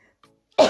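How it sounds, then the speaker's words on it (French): A single short, harsh cough bursts out near the end after near silence, close and abrupt. "Pardon, je tousse."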